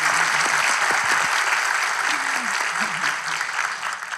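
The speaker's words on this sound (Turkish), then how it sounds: "Bir alkışlayalım ya." Studio audience applauds steadily for several seconds, dense clapping with a few voices murmuring underneath.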